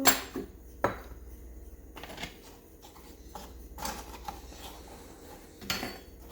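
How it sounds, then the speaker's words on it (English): A butter knife scrapes and taps against a measuring cup while flattening flour for sugar cookie dough, giving scattered clinks and scraping sounds, moderately close and fairly quiet, with no talking. "I like to use a butter knife to just flatten it out to make sure there's no like hair pockets"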